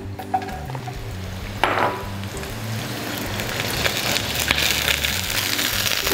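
Garlic, ginger and scallion stir-fry in hot oil in a pan, giving a steady close sizzle with a brief scrape of stirring partway through and no talking.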